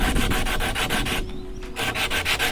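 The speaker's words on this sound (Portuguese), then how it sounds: "Essa é uma lixa que come bastante a pedra." Coarse sandpaper scrubbed hard against a stone during a homemade meteorite test, giving a steady run of close, rhythmic rasping strokes that stop briefly midway, then resume.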